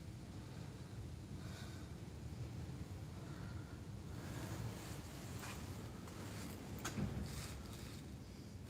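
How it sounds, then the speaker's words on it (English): Steady outdoor wind rushes and buffets a microphone during a live radio-controlled truck session, a low continuous roar with slight gusts and no talking. "It's pretty windy here"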